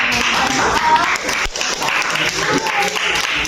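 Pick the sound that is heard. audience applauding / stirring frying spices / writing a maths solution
audience applauding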